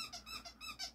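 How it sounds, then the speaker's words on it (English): A dog chewing a squeaky toy indoors, a quick run of about four bright, high-pitched squeaks, fairly faint, with no talk. "that's my dog Teddy squeaking his toy"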